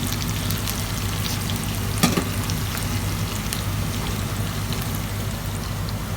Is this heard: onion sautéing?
yes